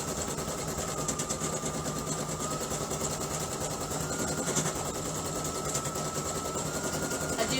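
An embroidery machine stitches over jump threads with variegated thread, giving a fast, even mechanical buzzing and rapid needle chatter that runs steadily and close throughout.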